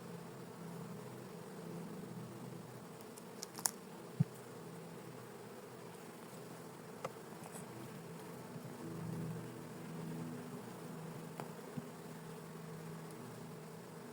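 Honeybees buzz in a steady, low drone around an opened hive during an inspection, with a few faint clicks and knocks from handling.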